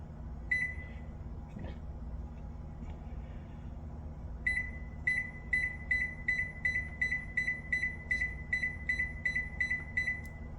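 Air fryer beeping while cooking boneless pork ribs, a single short electronic beep followed later by a rapid repeating series of sharp high beeps over a low steady fan hum.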